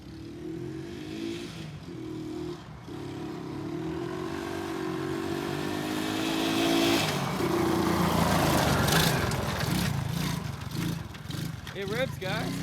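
Cheap $50 quad bike with no brakes revving while riding off-road, a buzzing engine note climbing and easing over several seconds, with voices talking over it.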